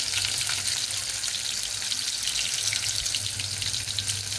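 Onion frying in oil: a steady, dense sizzle that holds loud and even throughout, with no voices over it.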